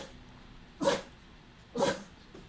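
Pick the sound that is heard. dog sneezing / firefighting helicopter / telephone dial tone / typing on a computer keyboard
dog sneezing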